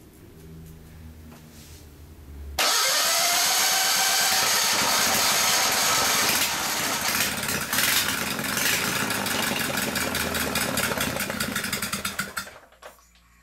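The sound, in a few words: go-kart engine cranked over with throttle open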